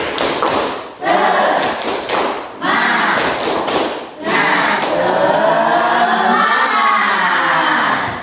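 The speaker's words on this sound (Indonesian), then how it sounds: "Ayo, siap semangat semuanya. Siap. Mana semangatmu? Ini semangatku. Tepuk semangat." A school class does a rhythmic group spirit clap, with bursts of loud claps, thumps and shouted chanting from the children in quick repeated patterns, broken by brief pauses.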